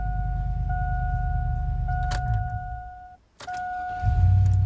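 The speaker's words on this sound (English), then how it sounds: "this vehicle is really hard to start, especially because it's not functioning correctly" A high-mileage vehicle with an engine fault, being started with a Hulkman Alpha 85S jump starter: a low rumbling crank under a steady dashboard chime, a brief pause, then cranking picks up again.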